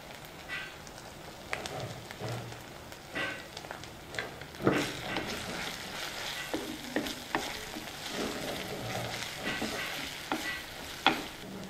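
Red cabbage curry with ginger-garlic paste and turmeric frying in a pan, a quiet sizzle broken by irregular stirring scrapes and clinks.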